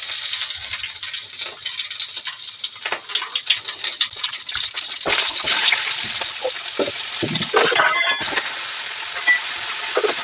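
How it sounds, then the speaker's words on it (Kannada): Chopped onion, green chili and tomato fry in hot oil in a pan, giving a loud, steady sizzle and hiss that surges as the pan is stirred, with no talking. "ನಾನು ಕಟ್ ಮಾಡಿರೋಂಥ ಈರುಳ್ಳಿ ಮತ್ತು ಹಸಿಮೆಣ್ಸಿಕಾಯಿ ಟೊಮೊಟೊನ ರೋಸ್ಟ್ ಮಾಡ್ಕೊಳ್ತೀನಿ"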